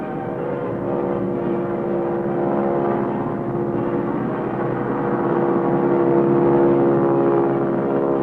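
A propeller airplane flies a crop-dusting insecticide spraying run. Its engine gives a steady, loud droning hum that swells slightly, with no voices.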